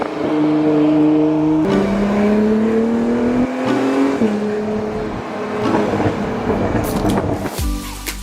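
An Acura NSX sports car engine revs loudly and close through its exhaust, holding steady tones that shift pitch between throttle changes, ending with a sharp burst.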